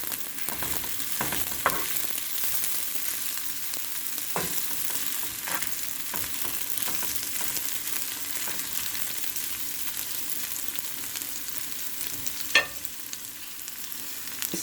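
Okra frying crisp on a tawa gives a steady close sizzle, broken by occasional scraping stirs of a spatula across the hot pan.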